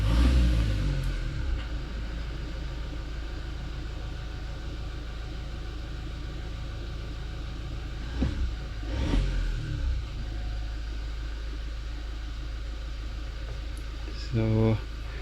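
Toyota Hilux with an EGR circuit fault on a road test, its engine rumbling steadily inside the cab with a couple of brief revving swells and some faint bumps.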